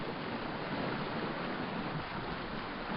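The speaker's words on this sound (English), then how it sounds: "With more waves splashing onto the dike wall and receding into the river" River waves wash steadily against an earthen dike bank reinforced with a jute, coconut and man-made fibre blend, making a continuous close, even rush of splashing and receding water with no voices.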